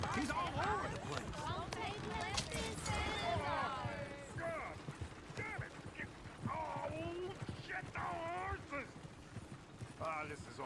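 Horse-drawn coach in the Red Dead Redemption 2 video game, hooves clip-clopping steadily at a trot with an occasional whinny, heard under game dialogue and talking voices throughout.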